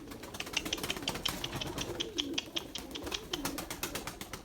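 White Erzurum pigeons flapping their wings in rapid repeated bursts, a dense rhythmic fluttering with soft coos mixed in, close by and continuous.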